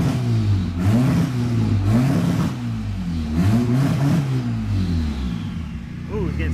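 Boosted Honda Accord with an F23 engine revving hard in repeated surges, the throttle cutting out and dropping between pulls; loud, close engine drone with a person speaking over parts of it.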